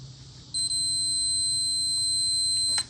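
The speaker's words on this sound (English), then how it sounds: "you guys can hear the beep" A multimeter on continuity mode beeps while probing an ignition coil wire on a Mustang II during tachometer troubleshooting: one steady, piercing, close electronic tone that holds for about two seconds over faint room hum, then cuts off.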